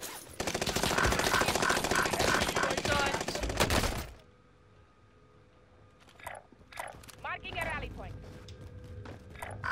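Rapid automatic gunfire rattles loudly and continuously for about four seconds in Call of Duty Warzone Rebirth, then breaks off into quieter game noise, with scattered voices talking toward the end.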